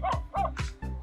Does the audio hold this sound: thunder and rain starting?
no